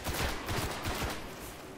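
Rapid bursts of automatic gunfire in the video game Destiny, a dense run of loud shots with repeated low thumps, steady and close throughout with no talk.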